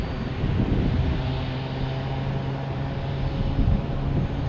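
A Delta Airlines Boeing 737-800 departs Phoenix Sky Harbor for Seattle, its engines giving a steady, broad roar with a low sustained tone, fairly close and alone without talk.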